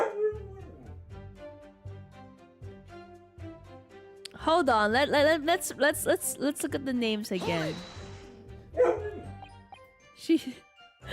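An angry dog barks, yips and whines in a burst of rising, wavering cries, with a person talking before and around it.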